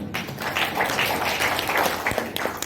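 Seminar audience applauding in a hall, a steady wash of many hands clapping for under three seconds with no voices over it.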